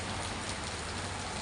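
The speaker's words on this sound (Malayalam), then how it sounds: "നല്ല വരുവെള്ളം കുത്തിയൊലിച്ച് പോകുന്ന മഴയാണ് എടപ്പാളിൽ സംഭവിച്ചുകൊണ്ടിരിക്കുന്നത്" A heavy summer downpour pours in Edappal, a dense, loud, unbroken roar of rain that stays constant throughout with no one speaking.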